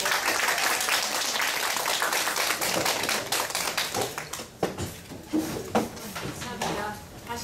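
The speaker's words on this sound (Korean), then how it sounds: "감사의 박수 한 번만 더 주세요." Audience at a Korean women's literary society lecture breaking into dense applause of thanks, loud and sustained at first, then thinning to scattered individual claps and taps as it fades.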